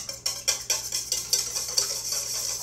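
Rhythmic clinks of a whisk against a medium bowl beat a cracked egg, roughly four strokes per second, close and moderately loud with no talking.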